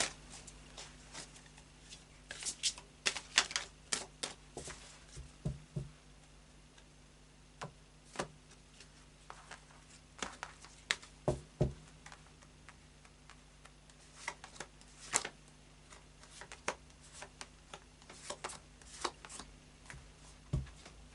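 Tarot cards being shuffled by hand, a series of soft irregular card flicks and taps, quiet and close, spread across a calm room with no talking.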